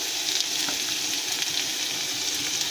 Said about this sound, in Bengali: ওখানে আমরা পেঁয়াজ কুচিগুলো ঝিরিঝিরি করে পেঁয়াজ কুচিগুলো দিয়ে দেবো